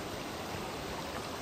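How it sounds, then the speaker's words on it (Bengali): Water runs along a stream on a hiking trail, a steady, dense rushing and gurgling that stays close and fills the whole short moment with no voices. "আপনারা মনে হয় জলের আওয়াজ শুনতে পারতেছেন, ভালো করে ধ্যান দিয়ে শুনুন, একটু জলের আওয়াজ শুনতে পারবেন"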